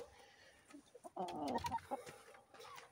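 A chicken, likely a young rooster, gives a short burst of clucks, faint and close, amid a quiet farmyard background.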